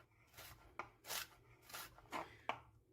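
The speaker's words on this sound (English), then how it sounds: "Just slice it. No, that's just knife work" Kitchen knife rocking and chopping celery on a cutting board, a quiet close series of soft irregular cuts and scrapes with a few sharper knocks against the board, no talk.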